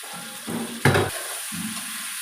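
Chicken sizzling and being stirred in a hot pan for chicken gravy, with scraping bursts and a louder clatter midway, steady frying hiss throughout.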